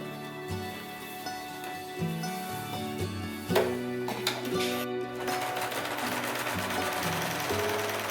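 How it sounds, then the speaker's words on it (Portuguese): A sewing machine stitches fabric for an apron, running in a steady, close mechanical whir that speeds up and slows with short pauses, growing fuller and busier toward the end. "E aí, passo uma costura de um pezinho de máquina aqui."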